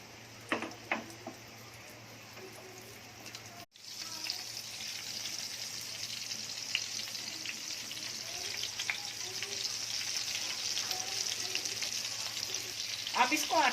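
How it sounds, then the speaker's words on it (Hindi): Prawns fry in a pan on a medium gas flame, giving a steady loud sizzle that swells after a short pause, with a few clanks and stirring noises and occasional faint talk. "अब इसको अच्छे से फ्राई पैन घुमा घुमा के सब इधर अच्छे से तल लूंगी मीडियम गैस पे"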